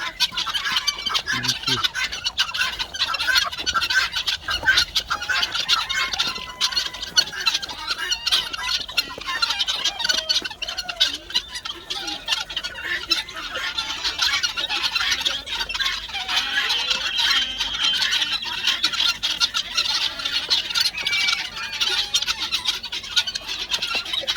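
A crowd of chickens cluck and squawk continuously at close range, a busy, dense chorus of fowl with occasional louder squawks.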